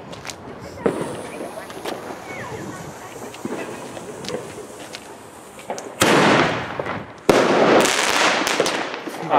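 Small fireworks crackle and pop in scattered bursts, then two louder, sharper blasts from Grand Bastard China Red firecrackers ring out with sustained crackling, with voices faintly in the background.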